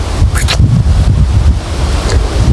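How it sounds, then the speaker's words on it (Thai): Strong wind blows outdoors, loud and continuous, buffeting the microphone with a heavy low roar and occasional gusty rustles. "โอ้โหลมเป็นยังไง"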